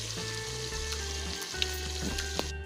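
Minced shrimp keema frying in a pan, a continuous close sizzle with a low steady hum underneath and a couple of faint clicks, no talking.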